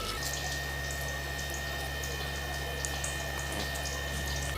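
Hands being washed under a running kitchen tap, a steady even stream of water splashing close by with no talk.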